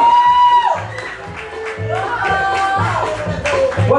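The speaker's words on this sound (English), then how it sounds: "applause." Studio audience applause at a talk show, moderate clapping from a crowd mixed with voices talking over it.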